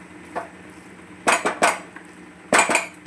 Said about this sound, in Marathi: आता थोडंसं आपण आता याला एकदा हलवून घेऊया। चांगलं मिक्स करायचं।